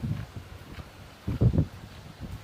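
Strong wind at Bangsaen beach buffets the microphone in low, rumbling gusts that come and go, with one louder burst in the middle.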